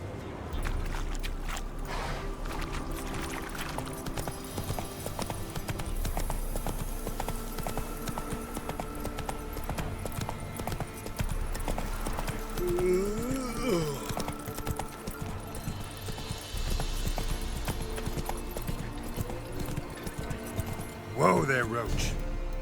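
Roach the horse trotting in The Witcher 3, steady rhythmic clip-clop of hooves throughout under game ambience and music, with faint voices talking in places.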